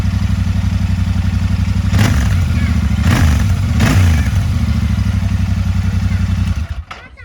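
A Royal Enfield Continental GT 650 or Interceptor twin-cylinder motorcycle idles loudly and close with a steady deep exhaust thump, blipped a few times, before the engine cuts off near the end.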